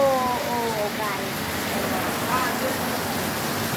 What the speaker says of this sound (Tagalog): Ay, lakas ng ulan dito, guys.